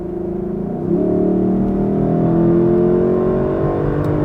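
A 2021 Lexus LC500 convertible's V8 revs in sport mode, a steady engine note that climbs in pitch and loudness about a second in and holds a strong, throaty drone to the end, close and with no talk.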